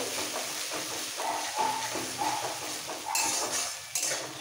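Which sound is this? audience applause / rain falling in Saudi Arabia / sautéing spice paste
sautéing spice paste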